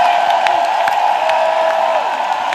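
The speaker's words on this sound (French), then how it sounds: "With shouts of victory." Church congregation raising victory shouts and cheers, a loud sustained crowd roar with scattered claps and whoops, steady from start to finish.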